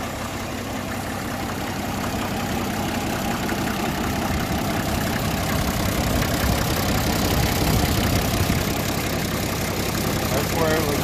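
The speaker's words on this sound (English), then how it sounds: "It is a 1961 Case 930 diesel." A 1961 Case 930 tractor's 6.6-liter six-cylinder diesel idles with a steady, loud, knocking rumble that continues without a break while someone talks over it.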